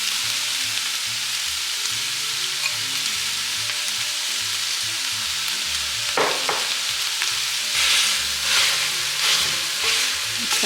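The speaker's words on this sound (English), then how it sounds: "I'm just gonna go ahead and add the onions" One whole white onion fries in a pan with a steady, close sizzle, and stirring scrapes and crackles swell in the later part.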